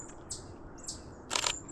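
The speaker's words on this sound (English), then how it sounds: "That is very high-pitched. That sounds like a kinglet. Could be a brown creeper too." Thin, very high-pitched calls from a small songbird, likely a kinglet or brown creeper, in the woods during fall migration: two brief faint notes, then a slightly louder burst, heard alone against quiet background.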